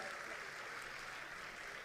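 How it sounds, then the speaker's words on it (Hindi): An audience at a bar association welcome for a justice claps in a soft, distant, even patter of applause that holds steady throughout. "उनके लिए भी जोरदार तालियां बजाइएगा।"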